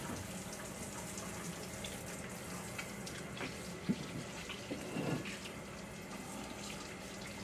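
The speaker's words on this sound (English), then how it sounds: "Let me wash my hands." A kitchen tap runs steadily as someone washes their hands at the sink, a soft, continuous water stream with small splashes and a brief surge near the end, heard fairly quietly.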